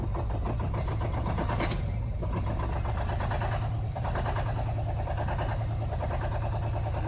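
A worn YaMZ-238 diesel engine, damaged by over-revving, runs with a continuous low rumble and rough, pulsing chatter, close and steady throughout.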